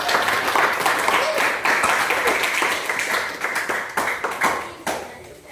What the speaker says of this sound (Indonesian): Aplaus untuk semua